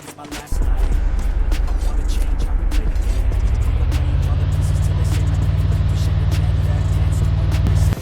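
Monster truck driving in the Free Fire video game: a steady engine drone starts abruptly and holds loud and continuous, its pitch rising partway through as it accelerates, with other game sounds over it.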